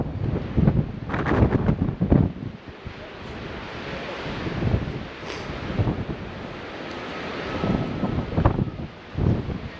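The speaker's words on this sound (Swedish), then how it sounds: "Lite vind, men vårvärme ändå." Wind buffets a microphone outdoors at a lake in spring, with broad gusting rushes that swell and fade over steady background noise, no voices.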